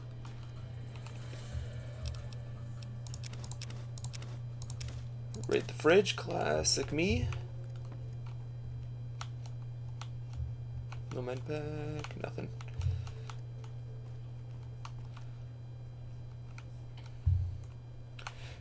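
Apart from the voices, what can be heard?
computer keyboard typing while gaming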